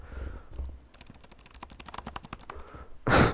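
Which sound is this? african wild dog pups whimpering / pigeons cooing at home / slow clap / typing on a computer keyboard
typing on a computer keyboard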